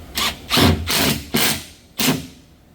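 Power driver sinking screws to fix a glued cabinet piece during a white oak kitchen remodel, four short whirring bursts close up with brief pauses between them.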